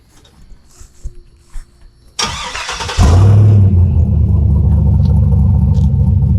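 A pickup truck with a swapped 5.3 V8 cranks for under a second, then fires and settles into a loud, steady, close idle rumble. No one speaks.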